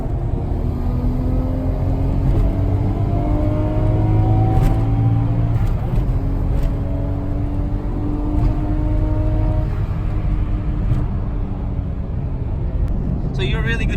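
A Nissan Skyline GTR R34 V-Spec II Nür accelerates on a road in Japan, its engine droning and climbing through gears as heard from inside, with a steady road rumble and people talking over it.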